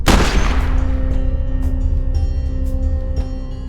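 Gunfire in Cataclysm: Dark Days Ahead opens with a loud booming shot, followed by a dense rumbling fusillade and several sharper reports that trail off over a few seconds.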